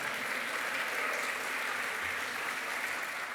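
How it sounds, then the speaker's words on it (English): An awards ceremony audience gives a steady round of applause, continuous and even in level, with no one speaking over it. "One more round of applause to the Perez family."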